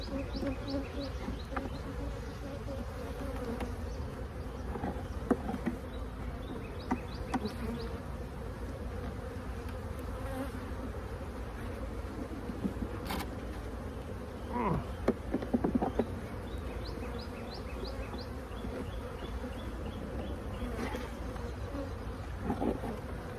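Dense, continuous buzzing of a large number of honeybees up close at an open hive, a constant hum with occasional louder passes of individual bees.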